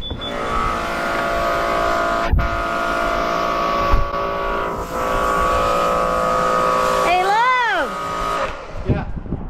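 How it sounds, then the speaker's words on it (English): A pressure washer cleans the roof of a 36-foot bus outdoors, making a steady, loud mechanical drone with a brief warbling, pitched sweep near the end. "right now we're working on washing the zombie bus, and he's on the roof, pressure washing the roof"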